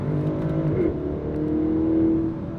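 A BMW X7 50i M Sport with a 4.4L V8 revs loudly and close by, the engine note rising, dipping briefly and climbing again in a steady drone.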